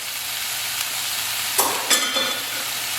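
Onions frying in butter in a skillet with minced garlic, a steady sizzle throughout, broken by a couple of brief stirring scrapes and light clinks partway through.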